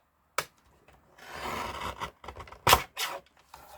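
Paper being trimmed for a handmade card, with a sharp cut at the start, then a stretch of rubbing, sliding cutter strokes and a few quick snips and pauses, close by and alone.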